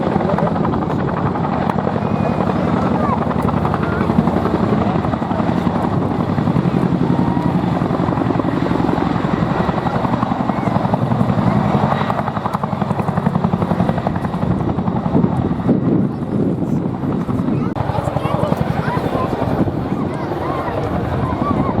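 A Wildcat helicopter flies past at an air display, its rotor thudding loud and steady throughout with wind buffeting, and a voice speaks over it.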